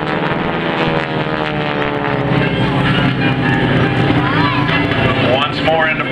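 Propeller plane pulling through an aerobatic loop at an air show, its engine drone loud and steady with a rising and falling pitch as it climbs and dives, while a commentator talks over it.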